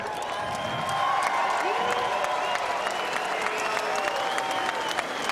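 Boxing arena crowd in New Zealand applauding Shane Cameron after his fight with David Tua, sustained loud clapping and cheering with voices mixed in.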